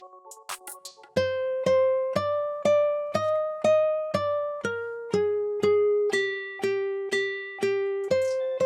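A looped melodic guitar preset in FL Studio with added top notes, plucked in a steady, evenly spaced sequence of clear notes with decaying tails, alone after a brief opening.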